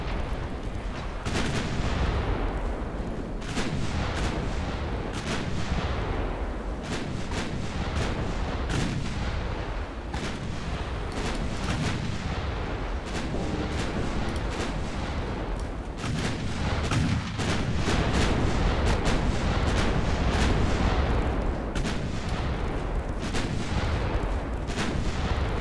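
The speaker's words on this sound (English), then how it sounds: "Just tons of 9-inch guns." Rapid, overlapping booms from batteries of 9-inch naval guns firing in Ultimate Admiral Dreadnoughts, a dense, continuous barrage of cracks and rumbling blasts with no gaps.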